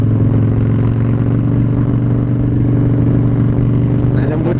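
A Harley-Davidson Dyna Street Bob motorcycle engine with an open air filter runs steadily with a throaty, open-intake roar, loud and close, holding a constant rumble throughout.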